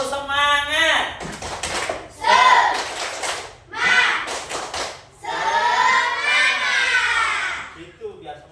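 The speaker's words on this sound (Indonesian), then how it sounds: "Tepuk semangat" An Indonesian classroom performs a rhythmic spirit clap, bursts of sharp patterned hand claps broken up by the voices of a teacher and children speaking and chanting between them.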